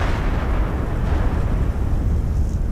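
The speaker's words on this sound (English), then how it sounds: "a powerful explosion rocks the Deepwater Horizon drilling platform" A powerful explosion on the Deepwater Horizon offshore drilling platform comes across as a loud, dense, sustained roar and rumble throughout, with no voices.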